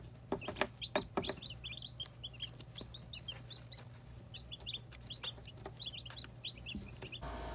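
Newborn chicks and ducklings peep in rapid, high, close-up bursts that repeat throughout. The chirping is irregular and overlapping, with a few louder knocks and some low background hum.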